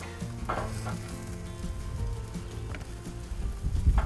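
Bear meat roasting alongside garlic and onion over a hot cooking surface, giving a steady close sizzle and crackle throughout, with a few faint clinks and a slightly louder stretch of sizzling near the end.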